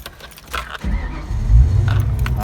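A 1994 Mustang GT SN95 taken out of storage starts with a quick jangle of keys, then the engine cranks and catches into a loud, close, low rumble that swells as it fires.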